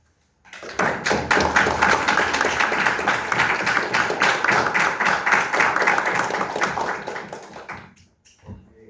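A lecture hall audience at a conference on the Battle of Arica gives actress Elizabeth Sánchez a sustained round of applause: many hands clapping loud and dense for about seven seconds before tapering off abruptly.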